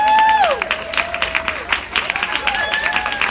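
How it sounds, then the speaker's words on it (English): Applause from a conference audience of Young Living distributors, scattered claps mixed with whoops and cheers, loud and close, with a high voice calling out over the crowd near the start. "huge round of applause."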